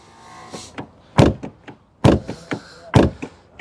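Several solid thunks close by, a 2006 Audi A3 Sportback's door being shut repeatedly, each with a short rattle afterward.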